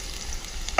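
Onion dropped into hot oil while frying for a prawn and eggplant dish in a home kitchen, with a steady low crackle that breaks into a louder burst of sizzling at the end.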